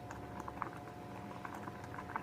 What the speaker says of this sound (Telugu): కాసేపు అయితే ఇది రాగి పిండి బాగా ఉడకాలి, స్మెల్ అంతా పోయేంత వరకు